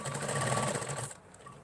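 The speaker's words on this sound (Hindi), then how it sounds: "तो अभी सिलाई लगा लेते हैं हम। ऐसे सीधे सीधे सिलाई लगाते हुए जाना है हमें।" Sewing machine running steadily as it stitches a straight seam on a katori blouse, a close continuous motor whir that stops abruptly near the end.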